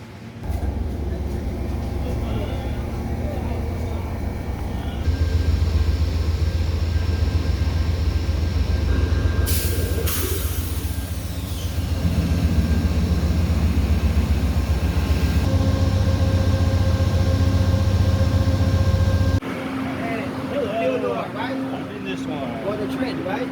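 An Amtrak Silver Meteor passenger train, about 14 cars long, rumbles steadily nearby with a low droning hum and a brief high hiss partway through, while people talk over it.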